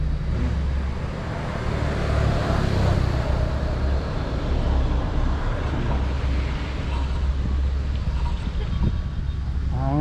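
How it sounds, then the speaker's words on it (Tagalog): Steady outdoor wind buffets the microphone in Angono, Rizal, a loud continuous low rumble and hiss with gusts rising and falling throughout, no voices over it. "mahangin dito, medyo mahangin"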